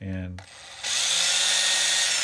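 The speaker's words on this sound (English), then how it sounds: "I get this tiny, tiny, tiny little drill bit. This is the smallest little drill bit I can find." A tiny drill bit bores the first small hole into a cigar box guitar, a steady high whirring grind that starts abruptly after a brief spoken word and runs on close and loud.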